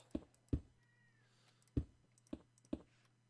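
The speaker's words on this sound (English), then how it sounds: "my cat is being super pesty over there" A pet cat at home gives a short, thin meow, heard once and quite faint, amid several sharp nearby clicks and knocks and a low steady hum, with no voices.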